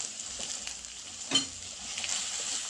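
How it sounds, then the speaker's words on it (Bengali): Ginger-garlic paste drops into hot oil for a shol fish curry, a steady soft sizzle and crackle with one brief sharper spatter, close and alone without talk. "এবার আমি এর মধ্যে এই আদা রসুন বাটাটা দিয়ে দিলাম।"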